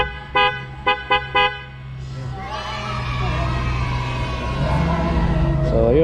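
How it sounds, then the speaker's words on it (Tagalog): A horn on a Honda CB 650R motorcycle gives four short, loud beeps in a quick burst. Afterwards comes a rising wash of noise from a crowd or traffic. "Pasensya na, tinaya yung busina."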